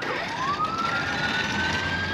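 A police siren in Palmdale sweeps slowly upward in a long rising wail over steady outdoor background noise, heard at a moderate distance.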